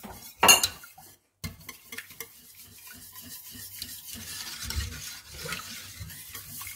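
Whisking two egg yolks into a lemon curd cream in a bowl, with a sharp clink of utensil on the bowl near the start, then a steady run of soft, close scraping and stirring strokes.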